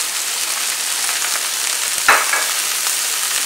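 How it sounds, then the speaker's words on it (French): Aromatic vegetables sweat in a pan: leek greens, carrots, onions and garlic cloves with bay leaf, clove and juniper, giving a steady close sizzle with one brief stir or clink midway. "On va bien laisser suer notre garniture."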